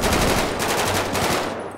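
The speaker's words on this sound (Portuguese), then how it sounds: "Ele lá tá tomando tiro." Rapid automatic gunfire in the video game GTA 5 during a roleplay robbery shootout, a dense, loud burst of machine-gun shots lasting nearly two seconds before tapering off.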